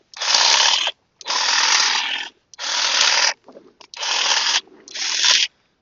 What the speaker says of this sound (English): Now I'm just lopping this thing.